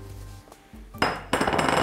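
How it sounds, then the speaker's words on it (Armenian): A bowl is lifted and set down in a home kitchen while a nut-and-raisin dessert filling is prepared, giving two sharp ceramic clinks about a third of a second apart, followed by brief clattering, with no talk. "Տեսնում ենք հարմար ամանը,"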